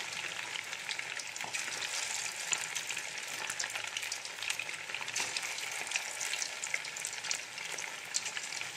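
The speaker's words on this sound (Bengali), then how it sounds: "তো দেখুন, চিকেনগুলো ভাজা হয়ে গেছে" Marinated chicken pieces fry in a pan for chilli chicken, a constant bright sizzle with scattered crackles and spits, fairly quiet and uninterrupted by voices.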